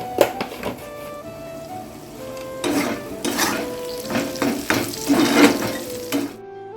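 Home kitchen cooking with a pan of food frying on the stove, sizzling alongside bursts of scraping stirring and clinks of utensil against metal, close and moderately loud, ending abruptly in silence.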